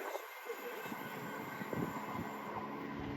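A diesel Turbo train rumbles past on a tight curve near London Marylebone and Princes Risborough, with a steady, grinding roar and faint metallic wheel squeal, continuous and fairly close, with no clear speech.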